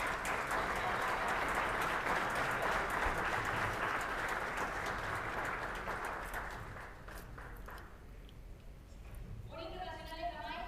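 An audience applauds at the Scotiabank CONCACAF League official draw ceremony: a dense, sustained wash of clapping that gradually fades away, followed by a voice beginning to speak.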